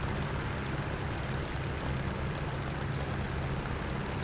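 A P-51 Mustang piston engine in the DCS combat flight simulator runs warm at about 2,000 RPM, giving a steady, dense propeller drone with a low throbbing hum that holds level throughout.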